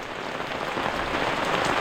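Heavy rain pours down steadily in a dense, even hiss, with no voices.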